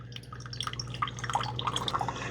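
A Keurig K-Crema coffee maker runs a freshwater rinse, letting out quick, scattered drips and trickles of water over a low steady hum, close by and with no talking.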